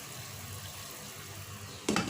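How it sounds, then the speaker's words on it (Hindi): Water at a rolling boil in a cooking pot before chicken is added for steaming, a steady low bubbling rumble with a brief louder splash or clatter at the end. "पानी में उबाल आ गया।"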